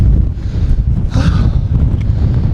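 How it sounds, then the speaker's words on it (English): Steady wind buffets the microphone on a cold, exposed Welsh coastal path between Abermawr Beach and Strumble Head, a constant low rumbling roar with a brief gust swelling near the middle and no voices. "You can say it's a bit windy and cold now"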